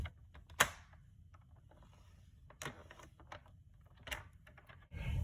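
A paper trimmer's lighter scoring blade is drawn across cardstock set at 2 inches, giving a few brief dry clicks and scraping strokes, close and fairly quiet, with short rasps spaced through the clip.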